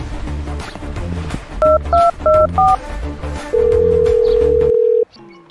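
Four quick mobile phone keypad beeps tap out in a row over background music, then a long steady tone holds before cutting off.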